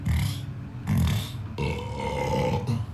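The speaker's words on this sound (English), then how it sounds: "So you'll probably hear some burps during the stream" Repeated burps after drinking an energy drink during a livestream: several loud, low, rough bursts close to the microphone, separated by brief pauses.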